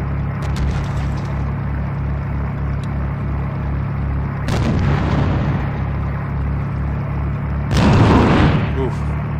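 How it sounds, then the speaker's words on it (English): Artillery fire in the IL-2 flight simulator game lands as two booming impacts several seconds apart over a steady pulsing aircraft engine drone, with someone talking. "There's the artillery coming in."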